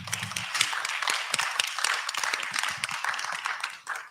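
A crowd at a public debate claps in steady, sustained applause, many hands overlapping, with a brief murmur of voices at the start.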